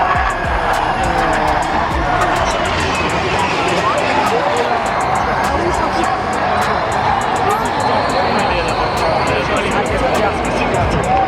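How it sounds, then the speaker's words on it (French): A safety car at the Monaco E-Prix street race, a dense continuous roar of passing traffic and crowd noise that stays loud and even throughout, with voices mixed in. "Safety car."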